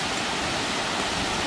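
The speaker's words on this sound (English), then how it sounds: "gives us access to the front of this waterfall out here at Glendale Shoals" A waterfall at Glendale Shoals gives off a steady, close, broadband rush of falling water that holds even and unbroken throughout.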